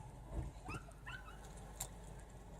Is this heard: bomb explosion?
no